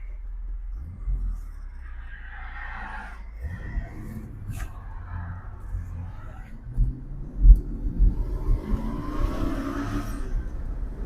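A 1970 Ford Ranchero GT with a four-speed gearbox accelerates from inside the cab, its low engine rumble building steadily and growing louder toward the end.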